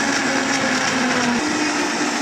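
A Vitamix blender runs steadily while whipping up an avocado colada smoothie, a loud continuous motor whine with a sustained pitch that shifts slightly partway through, no talking.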